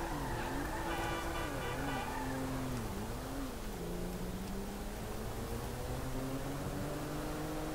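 Car engine droning steadily in GTA V, a continuous motor tone that rises and falls in pitch as the vehicle drives, loud and unbroken throughout with no speech.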